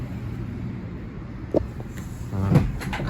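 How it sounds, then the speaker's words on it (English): Rear canopy of a Mitsubishi L200 2.4 DI-D double-cab Barbarian 4WD pickup being popped open: a quiet click at mid-clip followed by a short latch clunk and a soft sliding thud, close by and alone. "Just open the vehicle there, just so that it can pop the back open."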